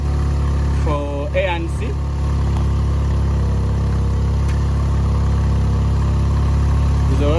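A Yamaha TMax 500cc scooter engine with a charging fault idles steadily, then rises slightly in a brief rev as someone speaks over the low hum.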